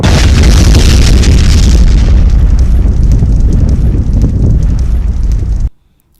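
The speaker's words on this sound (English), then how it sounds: "today we're going to be creating this explosion" A loud, close explosion effect made in After Effects, a roaring rumbling blast with heavy low boom and crackling fire-like noise that slowly thins out before cutting to silence.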